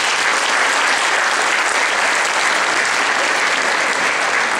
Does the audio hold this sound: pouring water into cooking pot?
no